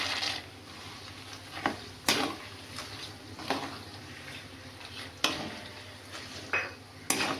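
Peanuts are stirred in a pan for chivda, with a spoon scraping and clinking against the metal in irregular knocks over a low background hum.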